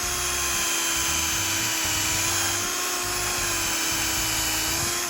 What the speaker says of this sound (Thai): ว่าจะเจาะก็ไวนะครับเกียร์สองก็ถือว่าไวนะดู